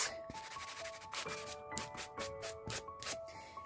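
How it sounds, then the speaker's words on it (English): Ink pads rubbed briskly along the top and bottom edges of journal pages, making close, dry scuffing strokes in short repeated bursts. "all I'm going to do is take my ink pads and put the ink on to the pages, tops,"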